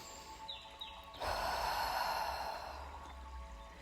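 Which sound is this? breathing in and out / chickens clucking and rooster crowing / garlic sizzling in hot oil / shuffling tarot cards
breathing in and out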